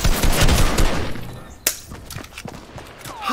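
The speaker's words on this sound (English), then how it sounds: "How slow is that shotgun?" A shotgun fires in a fast-paced shooter video game, a loud dense burst of blasts and impacts at first, then scattered sharp shots and thuds fading behind.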